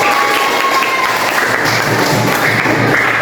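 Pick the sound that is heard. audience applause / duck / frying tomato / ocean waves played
audience applause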